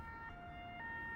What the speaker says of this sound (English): This is a European siren.